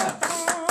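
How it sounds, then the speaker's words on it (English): Wedding guests clap in a short, close burst of a few distinct hand claps on a rainy day, with some faint background voices mixed underneath. "Is this where we clap?"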